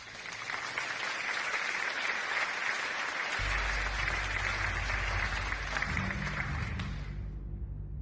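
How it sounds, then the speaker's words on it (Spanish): An audience at an awards ceremony applauds in a steady, moderately distant wash of clapping, with low music entering partway through before the sound cuts off near the end. "Démosles otro aplauso mientras toman asiento."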